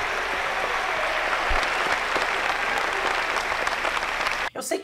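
An audience applauds steadily after a fado performance, dense continuous clapping at close range for several seconds before cutting off abruptly near the end.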